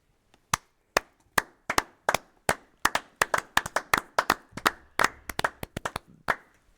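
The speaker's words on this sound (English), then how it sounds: "We're just applauding" Scattered hand claps, about two dozen sharp separate slaps that come faster and overlap toward the end, from a small audience at a wrestling show. The claps are close and dry, with no voices.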